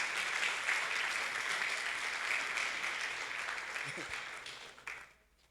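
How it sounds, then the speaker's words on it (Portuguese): Church congregation applauding during a service, a dense, steady wash of clapping that holds for several seconds, then thins and fades out near the end. "Vamos aplaudir Jesus."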